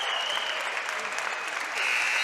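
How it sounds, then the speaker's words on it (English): Loud, sustained applause and cheering from a basketball crowd giving a standing ovation at a girls' high school game between Loyalsock and Danville, a dense continuous roar that grows slightly toward the end. "listen to this crowd here giving them a standing ovation"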